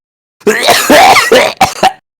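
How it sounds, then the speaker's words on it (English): A single loud, harsh fit of dry coughing, several rough bursts in quick succession right up close, then silence. "I'll just give a big fat cough, like a dry heaving cough"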